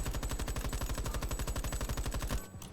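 Automatic rifle stripped of all attachments fires one fast, steady burst of evenly spaced shots, loud and close, for about two and a half seconds before stopping abruptly in the video game Veiled Experts.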